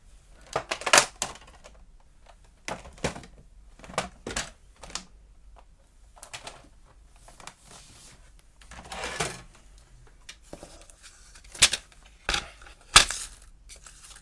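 Paper is cut with scissors for a craft project in sparse, crisp snips and rustles, spaced out over a quiet background.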